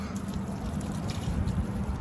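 Water from a refrigerator dispenser is poured onto potted house plants, giving a steady close splashing and trickling wash that runs for the whole two seconds with no voices over it.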